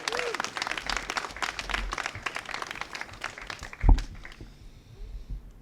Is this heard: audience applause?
yes